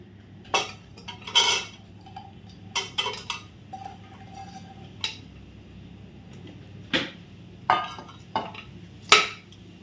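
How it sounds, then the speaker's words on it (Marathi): Chopped dates being sautéed in a little ghee in a pan, heard as intermittent spoon scrapes and clinks against metal, fairly close with quiet gaps between. "ते पण मी हे या थोड्याशा तुपावर परतून घेणार आहे"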